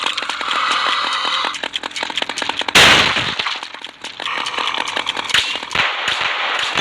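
Rapid gunfire in the zombie shooting game Zombie Fire 3D crackles in dense bursts, with a loud blast near the middle, continuous and close without a pause.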